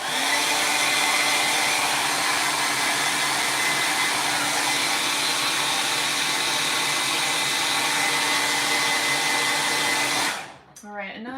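A hair dryer blows over fresh paint on a holiday wreath, a loud, steady roar that holds for about ten seconds, then cuts off abruptly, followed by faint rustling.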